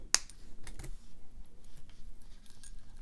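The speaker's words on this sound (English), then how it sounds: "I am going to snip with my regular pliers here because this is regular German style wire." Regular German-style jewelry wire is snipped with ordinary pliers: one sharp, close metallic click near the start, followed by faint handling sounds.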